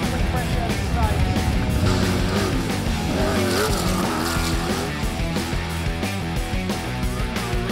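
Rally car charging through a stage at the Goondiwindi 400 round, engine revving hard and shifting through gears with tyre noise, loud and fairly close throughout.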